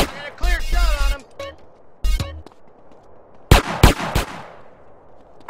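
Gunshots ring out in the video game GTA San Andreas as a sharp cluster of three or four loud close cracks near the end, following earlier game voices and effects.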